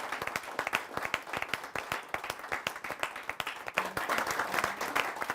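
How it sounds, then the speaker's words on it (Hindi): Loud, sustained applause from an audience at a Hindi poets' stage event, welcoming poet Dinesh Raghuvanshi, with dense clapping continuing steadily throughout. "एक बार जोरदार तालियों के साथ स्वागत करते हैं"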